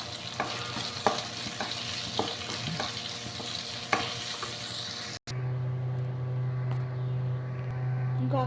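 Bitter gourd masala with coconut and sesame powder fries in a pan, with a steady close sizzle broken by periodic spoon scrapes. Partway through, the stirring stops and a quieter, even hum remains.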